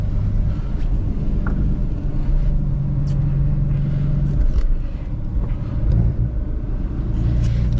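A manual BMW M3 engine rumbles and revs steadily while drifting, with a low droning roar and a few brief higher tire squeals over the top.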